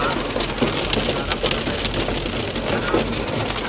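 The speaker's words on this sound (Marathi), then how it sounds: "आता गारा पडत आहेत" Hail and heavy rain pour down on the road to Yamunotri in a dense, loud, continuous patter with scattered harder impacts and no one talking.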